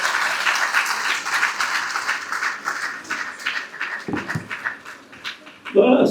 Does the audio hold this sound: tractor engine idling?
no